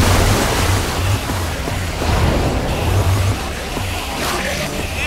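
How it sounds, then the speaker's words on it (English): Water gushing out of a machine in Minecraft Story Mode, a loud, steady rushing roar like surf, continuous throughout with a low rumble underneath. "I don't know how much water this thing is gonna kick out"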